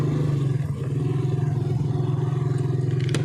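A motorcycle engine drones loudly and steadily near a riverside farm field, with a slight revving swell and some clatter.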